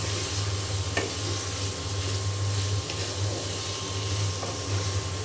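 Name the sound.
stirring and frying a vegetable stir-fry in a pan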